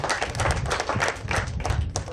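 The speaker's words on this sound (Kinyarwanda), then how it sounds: "Tumwongera amashyi Bwana Tuyishime Jean Deogratias." A crowd claps together at a Green Party parliamentary campaign rally in Kirehe, making a dense, steady patter of applause with a faint rhythmic beat throughout.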